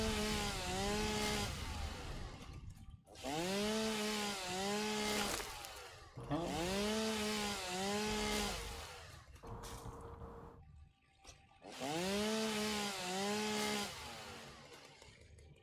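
Chainsaw in the video game Satisfactory, revving in four long sustained bursts with rising and falling engine pitch, loud and close, separated by brief pauses.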